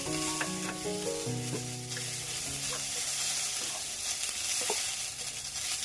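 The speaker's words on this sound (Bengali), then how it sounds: "এবার আমি একটু নুন হলুদ দিয়ে একটু কষাবো।" Beans sauté in a pan with salt and turmeric for a mustard-paste dish, giving a steady close sizzle with occasional stirring scrapes, set under background music with held tones at first.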